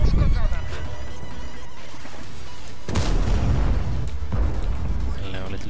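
Artillery fire lands in World of Tanks, a heavy boom about midway with a rumbling tail and a further thud later, set against steady game background noise and a voice talking.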